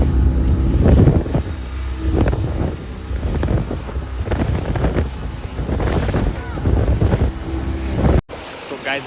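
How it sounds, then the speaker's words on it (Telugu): A fast boat ride on the sea at Rushikonda beach in Vizag, with a loud roar of wind buffeting the microphone, rushing water and surf, and the hull slapping the waves throughout. "బోట్ రైడ్ అయితే నెక్స్ట్ లెవెల్ ఉంది అంతే"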